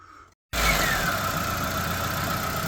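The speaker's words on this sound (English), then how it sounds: "So the car's warm, we've started it up. You can hear it runs okay, ticks over quite nicely." A warm Proton Saga 1.5 engine, being checked for a surging rough idle, ticks over steadily and close after a brief silence, with an even mechanical hum and no talk.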